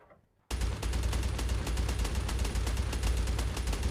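Rapid automatic gunfire from the Call of Duty Mobile video game bursts in after a brief quiet and rattles on continuously, dense and loud, with no talk over it.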